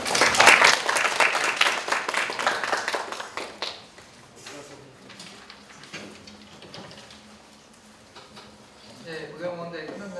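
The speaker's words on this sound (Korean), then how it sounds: "아주 박수를 받는 바람에 당황했거든요" An audience applauding at a student council election candidates' forum; loud, dense clapping at first that fades out after a few seconds, leaving a quieter room with light noises, then a slight rise again near the end.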